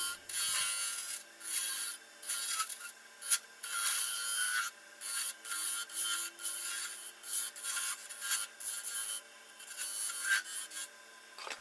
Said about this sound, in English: Now I'm using my roughing gouge and my spindle gouge to form that thumb rest.